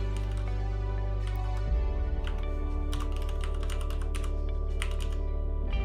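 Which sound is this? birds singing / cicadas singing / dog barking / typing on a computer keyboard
typing on a computer keyboard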